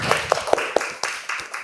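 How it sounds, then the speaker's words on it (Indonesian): Audience clapping at the close of a university lecturer-certification teaching presentation: a handful of sparse, separate handclaps near the start, then thinner scattered claps with soft background voices. "Tepuk tangan."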